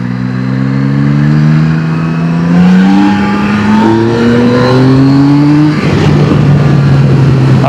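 A 2026 Yamaha Tracer 9 GT V4 motorcycle pulls hard in third gear in sport mode, its engine note loud and close and climbing steadily in pitch, then dropping briefly before rising again.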